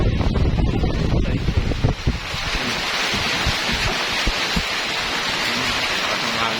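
Heavy rain roars steadily with a dense, hissing wash, gusty noise buffeting close by throughout, no voices.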